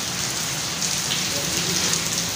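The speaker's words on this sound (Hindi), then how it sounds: "ये देखे बारिश शुरू हो चुकी है" Steady rain falls outdoors at a home during floor washing, a dense even hiss of drops on hard surfaces that stays constant throughout with no voices.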